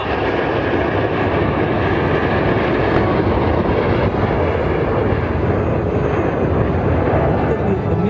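Frecce Tricolori aerobatic jets roar overhead at an air show in California, a loud steady engine rumble that holds through the whole span, with an announcer speaking over it.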